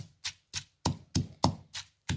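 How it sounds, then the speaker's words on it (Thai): Yellow Thai curry paste chilies pounded in a mortar with a pestle: seven sharp, evenly spaced thuds, close and loud, about three per second with nothing else heard. "ใช้มือป้อง เพื่อป้องกันไม่ให้พริกกระเด็นเข้าตาค่ะ แล้วก็โขลกนะคะ"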